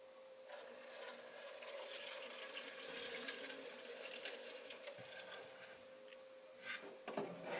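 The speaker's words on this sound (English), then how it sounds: "Pours the contents of the bedpan into measuring container without spilling or splashing urine outside of container." Liquid poured from a bedpan into a measuring container in a nursing skills setting, a steady close trickle and splash lasting several seconds over faint room hum.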